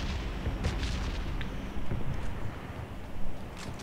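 Bombardment in the red zone of PUBG Mobile, a dense rumbling barrage of distant explosions and booms rolling on steadily, with sharper blasts near the end.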